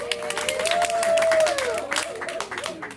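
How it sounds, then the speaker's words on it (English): Guests at a going-away party give a round of applause, a scattered, moderately loud patter of clapping that swells and then thins out, with voices heard underneath. "Let's give Nancy a big round of applause."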